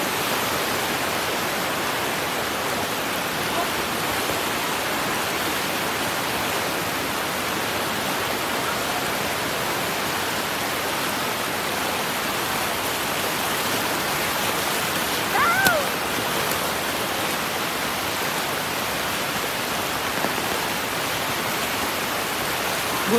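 A creek swollen into a flood during a typhoon, heard as a constant broad rushing roar of water that stays loud and unbroken throughout, with no voices standing out above it.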